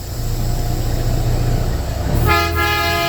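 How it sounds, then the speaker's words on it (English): A loud, sustained truck horn blast with rich harmonic tones starts partway through, sounding over a steady low engine rumble as the truck hauls soybeans. "I always gotta honk my horn just for a little thank you"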